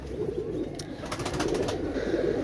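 A low, throaty pigeon coo rolls on continuously up close, with a few faint higher chirps and rustles mixed in.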